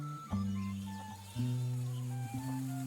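Goats bleating on a farm in the video game I Am Dead, a few drawn-out, tonal bleats in sequence over a quiet outdoor ambience.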